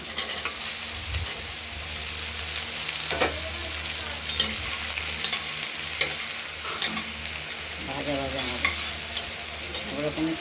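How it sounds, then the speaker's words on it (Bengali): Chopped pointed gourd fries in hot oil with black cumin and green chili, a steady close sizzle broken by scraping stirs and occasional spatula knocks against the pan, with no talking. "কেটে রাখা পটলগুলো আমরা কালো জিরের সঙ্গে ফোড়নের সঙ্গে আমরা ভাজা ভাজা করব"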